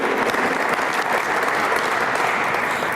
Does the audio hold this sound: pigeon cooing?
no